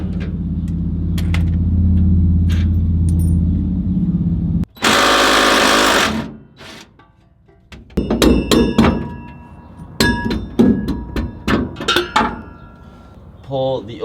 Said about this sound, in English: I have my small impact wrench